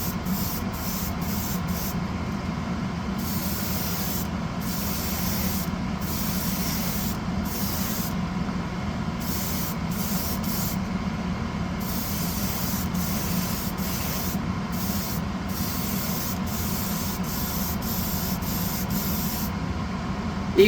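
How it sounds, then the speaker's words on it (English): A small spray gun misting paint onto a model car, a continuous close hiss broken by frequent brief pauses as the trigger releases, with a low background hum and no talking. "I can turn the spray down so I get an even finer spray."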